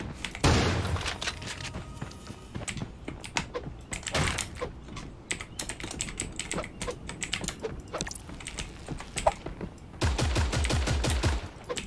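Rapid video game gunfire crackles in bursts and sharp single shots over about twelve seconds, fairly close and dense at the start and again near the end, with no talking.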